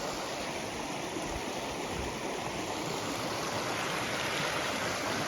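A mountain waterfall and rocky stream rush steadily in the outdoors, a dense continuous roar of flowing water heard alone with no voices.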